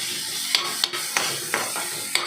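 Onion fries in a pan for a Goan sprouted-bean tonak, giving a continuous close sizzle. About six sharp scrapes and knocks of a stirring utensil against the pan break in at a rough, uneven rhythm.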